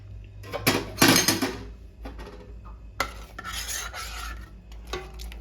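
Chicken with salt and black pepper being stirred in a pan, giving bursts of scraping and clinking from a utensil against the cookware, with a short pause between two rounds of mixing.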